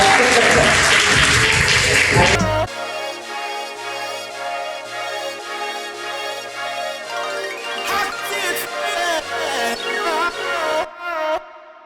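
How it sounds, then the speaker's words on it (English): Audience applause at a stage event, loud and broadband in the first two seconds, then giving way to steady music with faint clapping and voices beneath until near the end. "Keep clapping, keep clapping."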